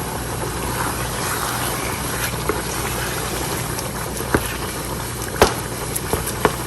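Marinated minced meat frying in hot oil, a steady loud sizzle with a few faint clinks of stirring near the end.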